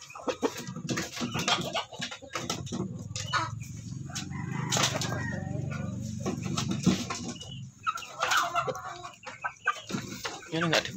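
Chickens and a rooster cluck and squawk in a coop, with wing flapping and scattered calls, fairly close, while someone talks intermittently.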